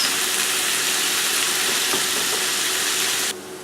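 Beef stir fry sizzling steadily in a hot pan, a dense, even hiss close by with faint stirring scrapes, cutting off abruptly near the end.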